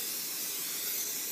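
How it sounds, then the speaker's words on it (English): Olive oil cooking spray misted over raw chicken before grilling, a steady close hiss lasting the whole moment with no talk over it. "you spray your chicken down with some olive oil spray"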